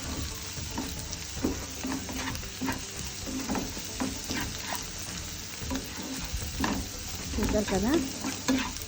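Onions frying with salt in a pan while being stirred, a steady close sizzle under frequent scraping and clinking strokes, louder stirring near the end, with a brief spoken remark over it.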